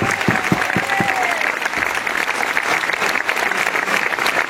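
Crowd applause on an outdoor esplanade in Nîmes during a rally defending bullfighting traditions, loud dense clapping with a few sharp low thumps early and cheering voices mixed in.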